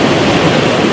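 A swift, deep river running hard after a flash flood rushes past at a river crossing, a dense, steady roar of churning water filling the short moment at close range with no break.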